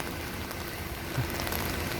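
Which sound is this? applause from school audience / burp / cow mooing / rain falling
rain falling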